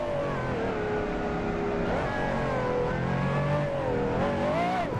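A Pagani supercar engine drones at high revs on a racetrack in a video game, a loud sustained tone that dips and climbs through gear changes and corners without pause.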